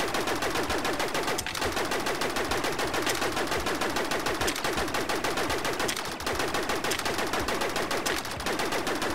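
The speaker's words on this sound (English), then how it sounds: "Why do you keep shooting me?" Rapid automatic gunfire in Rec Room rattles on continuously at a steady, fast rhythm, loud and close, with only a few brief dips across the whole stretch.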